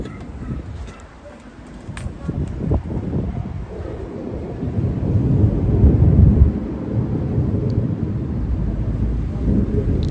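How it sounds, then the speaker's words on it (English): Low rumbling thunder from an approaching storm rolls on steadily, swelling louder midway, with wind noise on the microphone and no talk. "Storm coming in."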